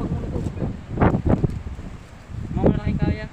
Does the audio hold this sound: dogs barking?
no